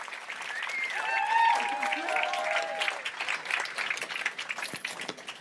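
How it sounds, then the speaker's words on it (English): Audience applause welcoming Amanda de Cadenet to the stage for an interview, steady clapping under a rising cheer or whoop early on, with people vocalizing over it. "Let's give a round of applause,"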